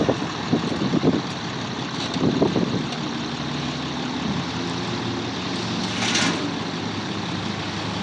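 A Dodge Ram 2500 pickup runs steadily while moving a shipping container, a continuous low engine rumble with a few louder knocks and bumps early on.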